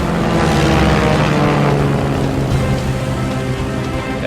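A World War I fighter plane's propeller engine drones loudly and continuously through a dogfight, a dense steady roar with no voices over it.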